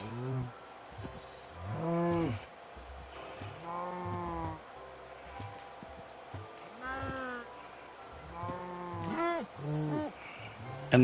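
Cows mooing in Minecraft, several long drawn-out moos spaced apart, moderately loud against a faint background.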